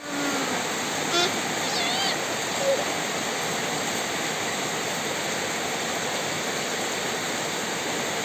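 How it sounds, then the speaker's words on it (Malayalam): Heavy rain pours down in a dense, unbroken hiss, close and steady from start to finish, with a couple of faint, brief tonal chirps in the first few seconds. "എന്താ നല്ല മഴയാണ്"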